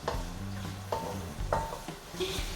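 Red onions and cloves sauté in a pan with a steady sizzle, broken by several distinct scraping stir strokes and light utensil clicks against the pan.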